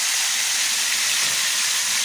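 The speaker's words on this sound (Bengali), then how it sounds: "আমি এখন মাছগুলো ফ্রাই করে নেব" Pieces of rohu fish frying in hot oil give off a steady, loud, hissing sizzle that continues without a break, with no talking.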